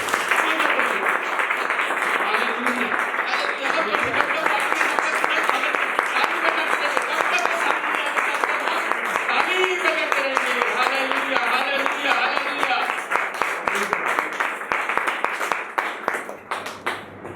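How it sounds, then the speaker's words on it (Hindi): A church congregation at a Saturday night meeting claps loudly and continuously to welcome the pastor, with voices mixed into the steady applause before it thins out toward the end. "हम सब मिलकर उनका जोरदार तालियों के द्वारा स्वागत करेंगे"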